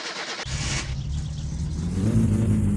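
A Satsuma car in My Summer Car cranks over and catches, its mid-pitched engine settling into a steady, loud idle that rises into revving, heard up close and alone.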